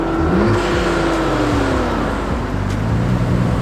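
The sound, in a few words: Nissan 300zx twin-turbo revving with HKS Hi-Power exhaust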